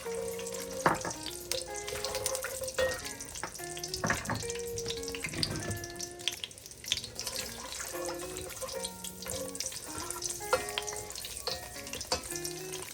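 Four small green chilies hit hot oil while cooking a chicken and urad dal dish. A crackling sizzle runs throughout, broken by clinks and taps of utensils against the pot, with no voices.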